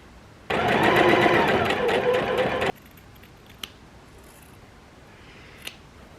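A sewing machine stitches a garment, its steady close whirring running for about two seconds before stopping, followed by near quiet with a couple of small clicks.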